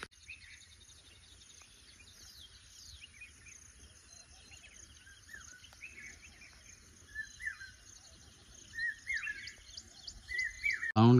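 Insects and birds call across a monsoon mountain slope, a steady cricket-like drone under scattered chirps and tweets, growing busier and louder toward the end.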